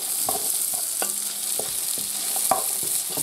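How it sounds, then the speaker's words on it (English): Vegetables and celery fry in oil while a utensil stirs them, producing a continuous close sizzle broken by several sharp scraping and clanking strokes in an uneven rhythm, with no voices. "Just make sure they get a good stir up now."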